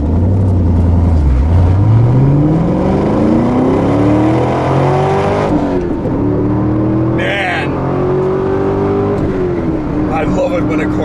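A 2002 Pontiac Firebird Trans Am V8 pulls hard under acceleration, its engine note climbing steadily through the gears with loud, close rising pitch and brief shift breaks.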